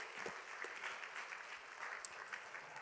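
Congregation at a college and young adult worship service claps together in a steady, even wash of applause, faint and somewhat distant, with no talk over it.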